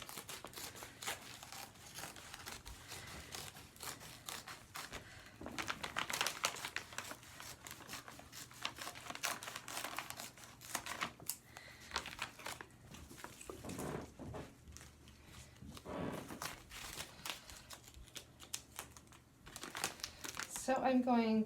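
Plastic feed bag being flattened and handled for a tote, with loose crinkling and rustling bursts scattered over about twenty seconds, close by, with a voice heard talking at times.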